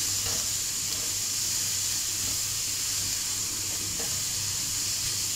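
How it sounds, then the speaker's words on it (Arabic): Sliced bell peppers fry in a pan for fajitas, giving a soft, steady sizzle and hiss that runs quietly throughout with no voices. "بحط فلفل الوان زي ما انتم شايفين، حطي الكميه اللي انت بتحبيها واخليهم كله مع بعضه كده يتكرمل."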